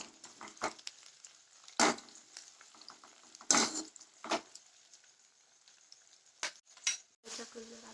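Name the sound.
onions frying in a pan for pav bhaji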